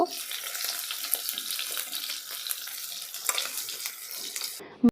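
Food fries in oil in a pan for a rohu (katla) fish curry, a steady close sizzle with scraping stirs and small clatters, ending in a sharp knock.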